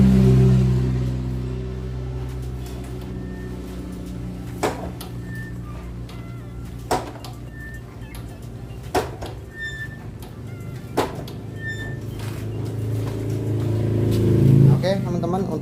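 A motorcycle is test ridden after repairs to its front disc brake. A low engine drone runs throughout, broken by four or five sharp knocks spaced about two seconds apart, and a rider's voice talks over it.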